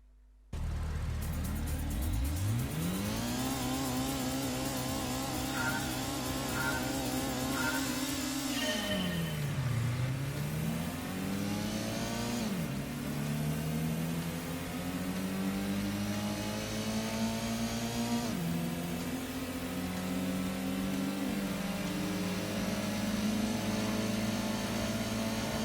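A Honda Prelude's engine revs hard during a Gran Turismo spot race at Grand Valley East, climbing steadily through the gears with clear pitch rises, a dip at a shift, then sustained loud droning acceleration throughout.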